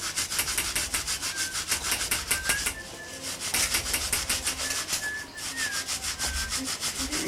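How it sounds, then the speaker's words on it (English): Gold being polished, heard as a fast, steady back-and-forth rubbing that stays close and prominent, with a brief pause partway through and a faint high whistle-like tone drifting in at moments. "He's clearly polishing it."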